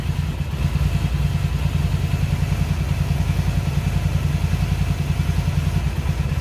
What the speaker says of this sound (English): That idle is all over the place, and it's mainly because my carburetors are out of sync.